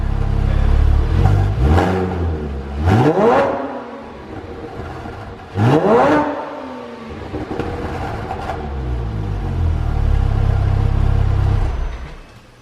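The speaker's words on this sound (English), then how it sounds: "I'll give you guys a few more revs" A flat-six engine with an aftermarket SOUL Performance exhaust revs sharply several times close up, each throaty rise falling back before it settles into a sustained rumbling idle.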